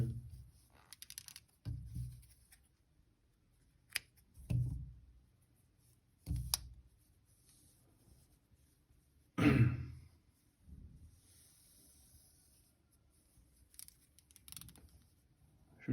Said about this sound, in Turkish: İpliğimizi keselim önce.